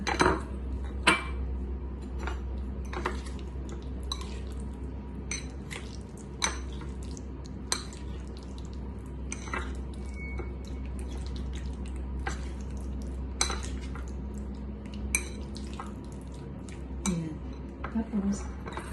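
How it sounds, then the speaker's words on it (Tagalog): A utensil mixes avocado, salmon and yogurt in a bowl, making soft squishy stirs and light clinks against the bowl over a low background hum, with occasional sharp taps. "Tapos, mix ko ngayon itong avocado and salmon."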